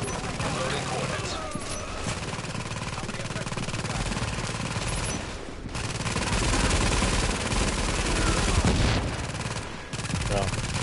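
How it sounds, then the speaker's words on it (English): Small arms fire in The Division, a shooter game: a dense, continuous stream of rapid automatic gunfire runs throughout, loud and close, with a few brief gaps and occasional voices over it. "Small arms fire!"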